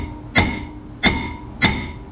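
A brake rotor on a 2011 Ford F150 4x4 is struck to loosen it for removal: three sharp metallic taps about two-thirds of a second apart, each ringing briefly, close and clear with no voices.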